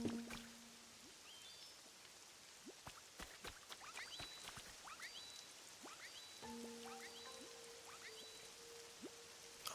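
Rain falling in the video game Pokopia, a faint steady patter of drops under scattered sharp clicks and soft game chimes and tones, with no voices.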